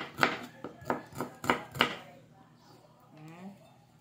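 A knife slices through an onion on a board in five sharp, evenly spaced chops up close. Then a person starts talking.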